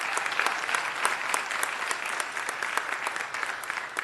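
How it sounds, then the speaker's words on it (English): A crowd applauds at a Los Angeles City Council meeting, steady sustained clapping with distinct individual claps throughout, moderately distant and without speech. "that also deserves a huge round of applause"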